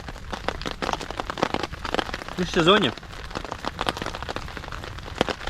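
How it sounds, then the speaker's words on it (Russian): Rain patters steadily on surfaces at a snowy spring forest camp in the taiga, with dense irregular drops, and a voice speaks briefly in the middle. "лежит, дождь идет."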